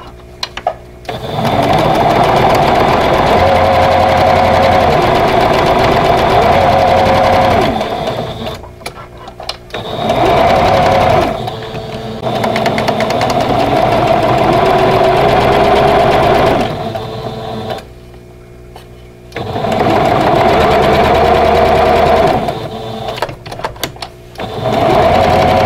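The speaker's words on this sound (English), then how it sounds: "So let's go ahead and sew these together." A sewing machine stitching quilt block pieces together for an Odd Fellows Chain vintage quilt block runs in three long, loud, close stitching bursts with a steady rapid chatter, pausing briefly between seams.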